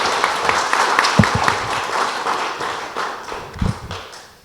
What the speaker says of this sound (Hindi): इनके लिए एक बार जोरदार ताली होनी चाहिए।